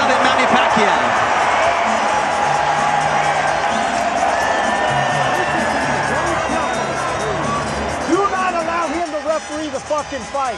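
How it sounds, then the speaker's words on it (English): A boxing crowd at the MGM Grand Garden Arena roars steadily through the Mario Barrios vs Manny Pacquiao fight, a dense, loud wash of cheering with a commentator talking over it. "The crowd's loving it at the MGM Grand Garden Arena"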